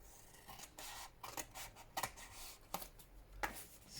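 Scissors snip paper in a quiet room, trimming a piece for a journal cover: a close series of short, crisp cuts and rustles, irregularly spaced over a few seconds.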